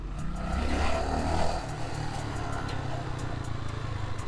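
A 1985 Honda FT 500 Ascot single-cylinder thumper idling slightly high, a steady low throbbing engine note with a brief swell early on, close by and without voices.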